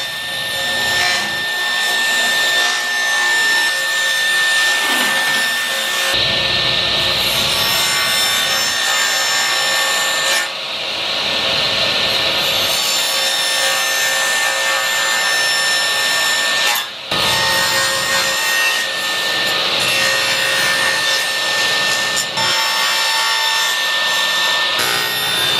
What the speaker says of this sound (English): I'm just gonna cut this by hand.